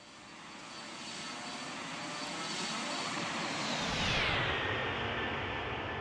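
Simulated MD-11 jet airliner flyby with a Mango Studios soundpack, engine roar swelling as it nears and then a descending whine and rumble as it passes and recedes.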